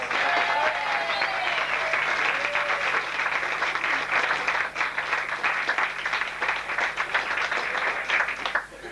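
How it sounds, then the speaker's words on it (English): Applause from a wedding crowd, steady and sustained for several seconds, with a few faint voices and whoops underneath. "Can we please give her a round of applause?"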